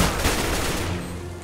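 A brief burst of rapid gunfire from the video game CS:GO during a competitive match, with dense, loud shots packed together over about a second and a half and no voice over them.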